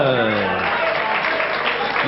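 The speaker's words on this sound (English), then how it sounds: "Nice appreciative crowd." Crowd at a 1990 British Masters darts match applauding, a steady wash of clapping that fills the whole moment at close, even loudness.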